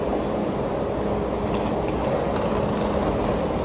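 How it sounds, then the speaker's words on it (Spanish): A German train passing, heard as a continuous broad rushing rumble of rail noise at steady loudness throughout. "Y los trenes alemanes."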